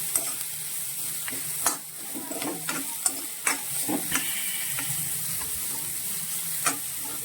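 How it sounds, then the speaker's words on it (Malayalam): Ground coconut paste is stirred into shrimp thoran frying in a pan, with a soft steady sizzle under repeated scraping clicks of the spoon against the pan. "നമുക്ക് മൂത്ത് കഴിയുമ്പോൾ അരപ്പ് ചേർത്ത് നന്നായിട്ട് ഇളക്കണം."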